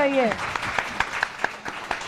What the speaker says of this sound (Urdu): یہ تالیاں تو گفٹس کے لیے بج رہی ہیں